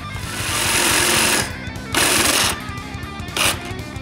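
A saw blade cuts through a seat stud during seat rail extender work on a classic Mustang, a loud harsh buzzing grind in three bursts of different length, close and alone.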